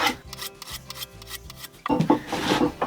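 A blade is drawn repeatedly across a sharpener in a run of quick, rhythmic rasping passes. The strokes are close and distinct at first, then turn into louder, denser scraping.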